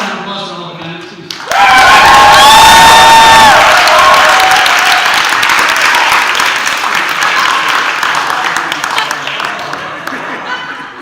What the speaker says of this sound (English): can we get one more round of applause for all the candidates